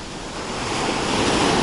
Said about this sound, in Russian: Огромные волны, сегодня штормит.